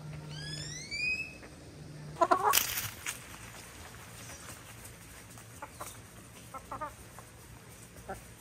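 Chickens cluck and squawk nearby, with a burst of flapping and scattered short clucks over outdoor background noise.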